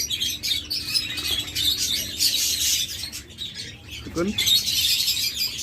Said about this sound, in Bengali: এগুলো একদম ডিম বাচ্চা করা কোয়েল এগুলো বয়স বর্তমানে নব্বই দিন